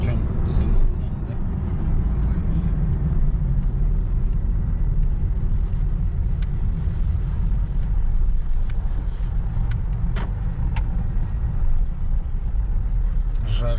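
Honda Fit GP5 rolling on studded tyres: a steady low road rumble and buzzing tyre noise inside the car, with occasional faint clicks and ticks, and people talking over it.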